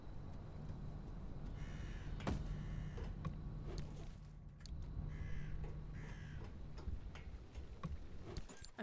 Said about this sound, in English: I'm hearing crows.